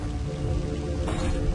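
A magic rain attack falls in the game Heretic, a steady wash of patter and hiss with a brighter splashing surge partway through, continuous and moderately loud with no voices.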